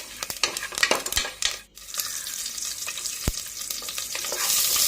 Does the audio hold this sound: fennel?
yes